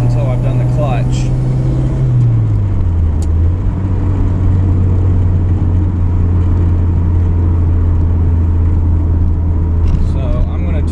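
A turbocharged car engine pulls hard under boost, overboosting to about 16 psi, with a loud, close, steady drone from inside the car whose pitch drops early on as a gear shifts, while someone talks over it.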